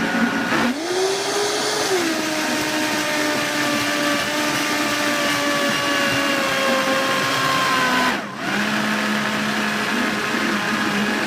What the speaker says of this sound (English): you can kind of hear when the blender's motor is wanting to quit out on you